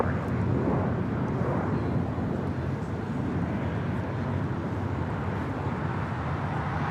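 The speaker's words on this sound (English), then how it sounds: "This is Spirit Airlines 1043 taking off to San Antonio, Texas on an A320." A Spirit Airlines A320 airliner taking off from LAX bound for San Antonio, a steady, loud low roar of jet engines with wind buffeting that holds throughout.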